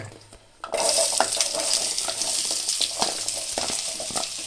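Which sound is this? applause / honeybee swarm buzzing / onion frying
onion frying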